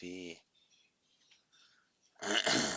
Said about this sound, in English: My dog's in here sneezing,